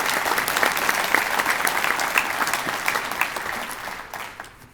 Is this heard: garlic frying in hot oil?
no